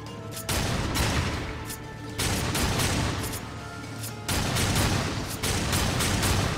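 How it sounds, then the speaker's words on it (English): Rapid gunfire in the video game Darksiders 2, close and loud, rolling in three long, continuous volleys with brief gaps between them and no talking. "Oh, that's some fast shooting."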